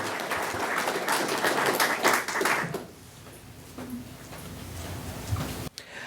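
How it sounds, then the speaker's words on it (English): A burst of clapping from a small audience at a high school career signing day ceremony that fades after a few seconds, leaving quiet room noise and scattered taps. "Let's have a round of applause for Justin Hash"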